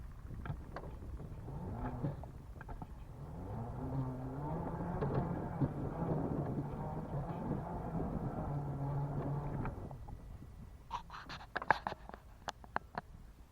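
A small Chinese tractor drives across a field with a faint, distant engine hum whose pitch wavers up and down for about ten seconds. Scattered clicks and handling noises follow as the engine fades out.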